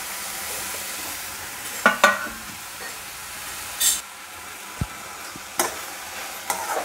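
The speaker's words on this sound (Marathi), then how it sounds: "तर बघा आपल्याला असं 5 मिनिटं छानपैकी याला परतून घेऊया" Chopped vegetables sauté in a pan with little or no oil, giving a soft, low sizzle broken by a few sharp stirring clatters and knocks at scattered moments.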